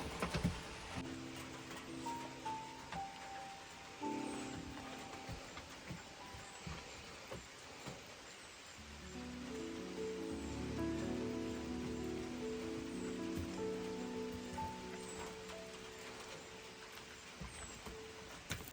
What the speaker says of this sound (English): Starting to rain here pretty good.